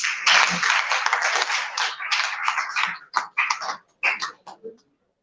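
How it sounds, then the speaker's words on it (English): A conference audience at a human capital development event in Awka, 2023, applauds a speaker with a loud, dense burst of clapping that breaks into scattered, separate claps and then stops. "can we give her more round of applause?"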